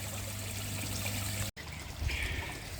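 Water from a koi pond filter drains in a steady, faint trickle after the pump is switched off, with one brief dropout midway.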